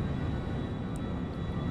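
An airplane engine drones steadily in flight in the game GTA V, a loud, constant, broadband roar with no speech over it.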